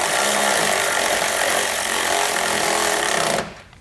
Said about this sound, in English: We're going to use a 13mm socket to do so.